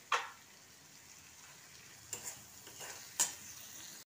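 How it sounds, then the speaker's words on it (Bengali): Spice paste for a prawn curry is stir-fried in a pan, a faint low sizzle punctuated by a few sharp scraping strokes of the spoon, with no speech. "আগে মশলাটা খুব ভালোভাবে কষিয়ে নেব।"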